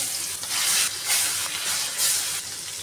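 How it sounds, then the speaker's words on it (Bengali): The remaining pangas fish pieces sizzle in hot oil, a loud hissing fry that swells and fades in repeated waves from close by. "এখন বাকি মাছগুলো দিয়ে দেবো।"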